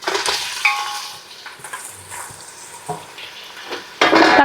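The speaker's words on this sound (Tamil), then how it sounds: "தக்காளியும் நல்லா பச்சை வாசனை போகிற வரைக்கும் வதக்கிக்கோங்க." Tomatoes sautéing in a pan for chicken biryani, with a soft sizzle under repeated scrapes and clinks of a spoon stirring against the pan, ending in a louder burst of stirring.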